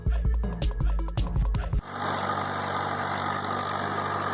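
A tractor engine in a field where a sunn hemp green manure crop is being turned into the soil, first a loud, rhythmic chugging, then a steady rumbling idle with broadband mechanical noise.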